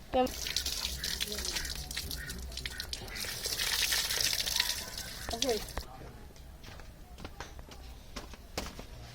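Tap water running into a sink while something is washed, a hissing stream with splashes and clatter that stops partway, leaving scattered drips and handling knocks, with people talking over it.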